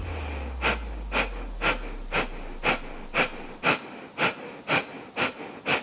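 Kapalabhati yoga breathing, forceful belly exhalations in a steady rhythm: about eleven sharp, close breath pulses roughly half a second apart, alone over a quiet background.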